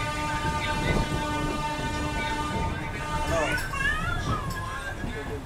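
A train rolls through Erode junction with a continuous loud rumble and clatter of wheels on rails, squealing metallic tones rising near the end, and people talking nearby.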